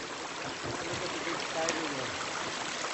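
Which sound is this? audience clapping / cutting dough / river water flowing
river water flowing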